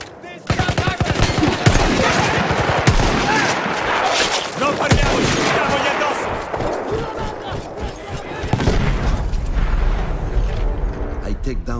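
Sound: machine gun fire in the video game Battlefield 1

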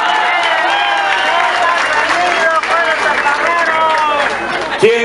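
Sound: crowd applause at campaign rally

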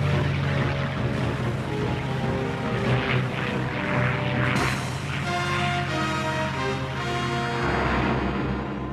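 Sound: WWII carrier aircraft propeller planes flying

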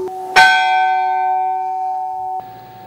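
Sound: church bell cast in Voronezh ringing

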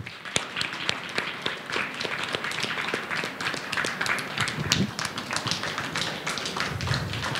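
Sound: audience applauding the film director

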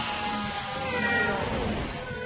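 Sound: cat character meowing in Bloody Roar: Primal Fury video game

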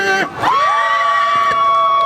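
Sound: buskers' audience cheering and shouting

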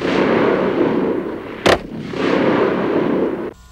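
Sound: Advanced Combat Rifle firing salvo burst of caseless ammunition

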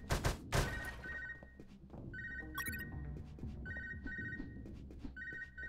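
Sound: telephone ringing in the video game Unmetal

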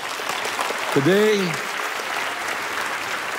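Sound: congregation applause

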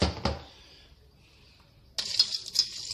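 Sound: dry pasta poured into boiling pot

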